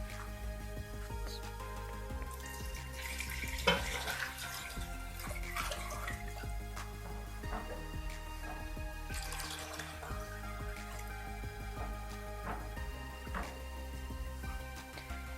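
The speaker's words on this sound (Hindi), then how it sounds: "अब इसमें हम डालेंगे चिकन स्टॉक।" Chicken stock is poured into a white sauce for chicken almond soup, making a soft, continuous trickling pour with light splashes, faint and steady throughout.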